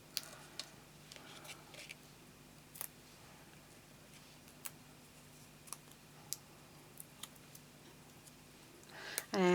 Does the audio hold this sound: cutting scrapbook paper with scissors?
yes